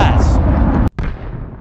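A massive explosion destroys a city in the video game Interplanetary, a loud roaring rumble that cuts off abruptly and then resumes as a heavy low drone.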